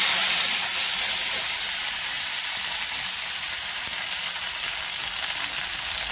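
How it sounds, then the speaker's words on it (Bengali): Ginger paste and a splash of water hit a hot pan with cumin, giving a steady, loud sizzling hiss that eases slightly and holds without talk. "জিরেটা হয়ে গেছে, এর মধ্যে আমি এবার একটু আদা বাটা দিয়ে দিই, সামান্য একটু জল দিই"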